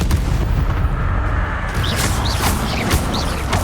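Expelliarmus spell cast in Hogwarts Legacy: loud, booming blasts and sharp bursts strike over a dense, constant rumble of game action, with a few brief whooshing sweeps in the second half.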